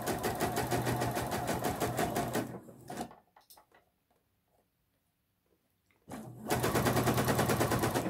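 Sewing machine stitching bias binding in the fold along a neckline, a loud fast rhythmic stitching run that stops, a few quiet handling clicks during a pause, then another loud burst of stitching.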